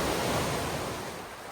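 Creek water flowing beside a woodland trail in Muir Woods on Mount Tamalpais, a steady broadband rushing wash that holds constant and close, fading slightly toward the end, with no voices.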